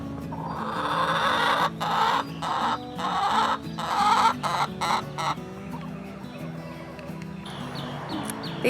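Backyard hens cluck and chatter busily nearby, with soft repeated clucks and occasional higher squawks over light outdoor background noise.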